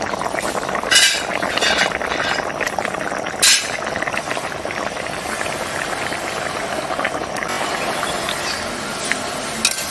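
Egg curry simmers in a pot over a village cooking fire, giving a steady bubbling boil with occasional clinks of a utensil, close and continuous without talk.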